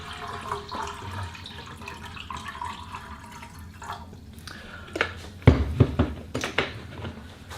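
Water poured into the cup of a British Army Crusader MK1 cooking set on a spirit burner, a steady trickling stream that ends in a few louder splashy sloshes and clinks.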